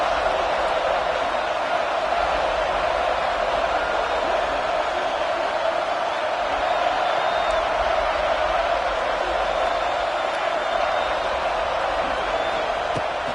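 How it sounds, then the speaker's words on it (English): Home football crowd at a UCLA game roaring continuously, a dense, loud sustained cheer with scattered whoops rising from the stands throughout. "how nice is it to have the home crowd going absolutely bananas"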